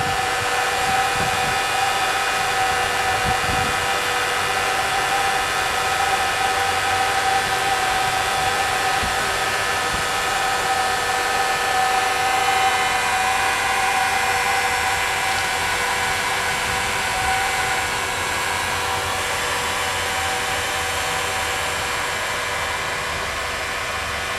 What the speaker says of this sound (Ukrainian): І має вмикнутися назад вентилятор.